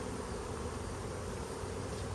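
An open-air honey bee swarm gathered below a trap gives off a dense, continuous buzzing hum, close and even in level throughout with no break or other sound.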